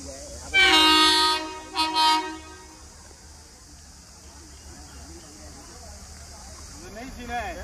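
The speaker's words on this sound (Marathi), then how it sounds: "ट्रेन म्हटलं ह्या पटरीला जाणार आहे" A train on a railway track, near a hill-station route, sounds two loud horn blasts, then a steady low rumble continues; voices speak briefly near the end.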